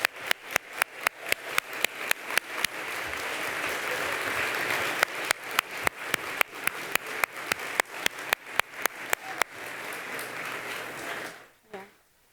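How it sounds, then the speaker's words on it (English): Audience applause at a nursing awards ceremony, a dense, sustained wash of clapping from a large crowd with scattered sharp claps standing out, running for about eleven seconds before fading out abruptly. "Let's give them a round of applause"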